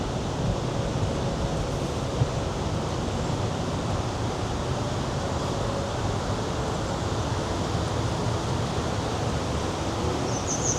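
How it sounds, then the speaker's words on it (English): A big waterfall in a Slovenian gorge gives a steady, broadband roar with no breaks. It sounds muffled and somewhat distant, with faint wind mixed in. "I'm away from that big waterfall."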